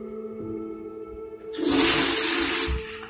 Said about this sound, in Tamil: யா, இது ஃபுல் ஃப்ளஷ்.